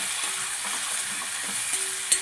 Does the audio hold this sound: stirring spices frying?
yes